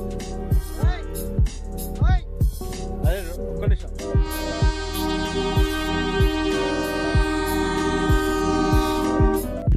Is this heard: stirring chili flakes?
no